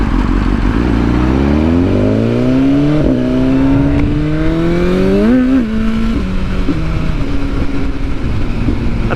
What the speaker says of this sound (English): Had a bit of a wheel spin there.